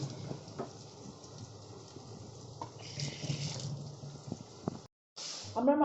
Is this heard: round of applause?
no